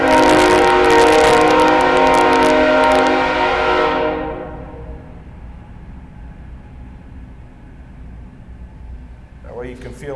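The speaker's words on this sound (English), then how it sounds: "We're gonna let the train go by here" A train rumbles past outdoors near a rope-measuring lab exercise, loud and close at first with a sustained horn-like drone, then fading over several seconds to a low background hum.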